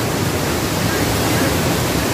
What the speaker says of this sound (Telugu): సో ఫైనల్గా మనం చర్చల వాటర్ ఫాల్ దగ్గరికి వచ్చేసినాం